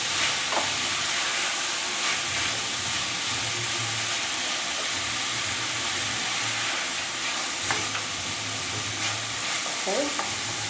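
Mince fries and browns in a pan with a constant loud sizzle, broken by a few stirring and scraping sounds and a low intermittent background hum.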